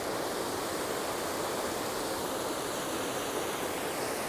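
Creek water running down a long spillway gives a steady, even rushing wash with no breaks or voices.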